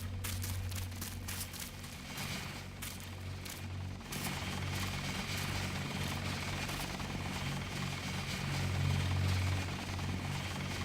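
A helicopter in the video game Deus Ex drones on with a steady low rotor hum and a rapid chopping flutter, holding at an even level that swells slightly near the end, with no talking over it.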